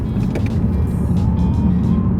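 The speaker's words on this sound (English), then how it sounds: "you apply a bit of throttle to raise the engine RPM, and then you just quickly let the clutch go" A car engine revs during a heel-and-toe downshift, a loud close low drone that rises and steadies, with no talk.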